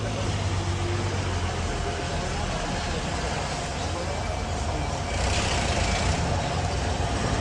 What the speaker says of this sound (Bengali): দেখেন 10 মিনিট 2 মিনিটের ব্যবধানে রাস্তা কতটুক জামে ভরে গেছে, সম্পূর্ণ জামে ভরে গেছে রাস্তাটা পুরোপুরি।